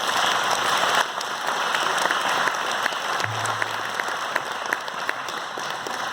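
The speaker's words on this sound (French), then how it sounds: "je crois que vous pouvez l'applaudir quand même" An audience at a French civic gathering applauds a mayor, steady dense clapping throughout at moderate volume with no talk over it.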